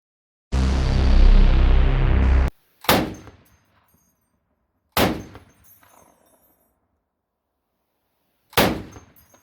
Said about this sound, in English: Somebody is shooting a 50 cal today.